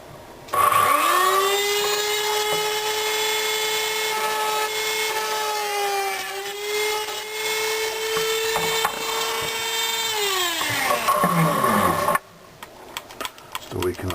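A Dremel rotary tool cuts through the metal of Nintendo 64 ports, giving a loud, steady high-pitched whine with a rising and falling pitch for about eleven seconds, then stopping abruptly.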